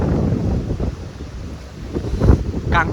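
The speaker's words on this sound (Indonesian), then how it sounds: "Ya hati-hati nih pas ana angin ini." Strong wind in Japan buffets the microphone with loud, gusty roaring that rises and falls throughout, rumbling up close.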